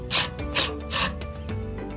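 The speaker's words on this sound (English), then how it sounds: "next you're going to come up here with the socket impact" An impact driver with a socket takes out the screws holding a trailer hitch handle during hitch release cable replacement, giving three loud, rapid ratcheting bursts followed by softer clicks and mechanical rattles, close up with no talking.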